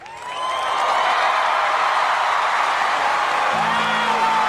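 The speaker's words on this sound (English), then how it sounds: "Oh, I want to hear the applause." Sustained applause from a large crowd, building quickly to a steady, loud wash of clapping that continues without pause, with faint tonal sounds underneath near the end.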